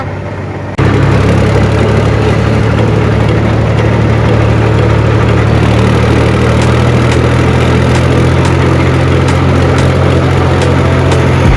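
A tractor engine idles steadily and close by on a farm at evening, its low, even rumble starting abruptly and then continuing unbroken with no talking.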